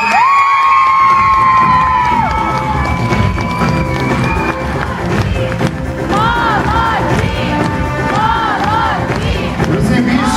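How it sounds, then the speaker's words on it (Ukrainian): Festival crowd cheers and shouts loudly for a winning dance ensemble at an awards ceremony, a continuous roar mixed with bright tonal music-like sounds throughout. "Ще раз ваші, ваші оплески нашому переможцю."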